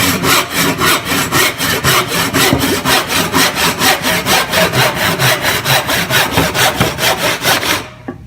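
A handsaw crosscutting wood, rapid rhythmic rasping strokes about three per second, close and loud, stopping abruptly at the end.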